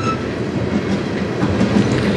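A freight train carrying truck frames on the Strathroy Sub near Sarnia rolls past close by, a loud, steady rumble of wheels and rail noise with faint clacking throughout.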